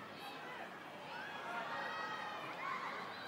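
Crowd noise at an international women's football friendly between Switzerland and China rises and falls faintly in the distance as a broad, steady roar with scattered shouts and cheers.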